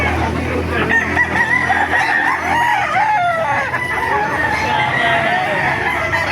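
Roosters crow and chickens cluck loudly all around at a poultry market in Baliuag, Bulacan, a dense chorus of fowl close by with some voices mixed into the noise.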